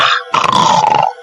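A man imitates a dog's bark, a single sustained growling, barking call held for about a second at close range, loud and alone after a brief opening sound.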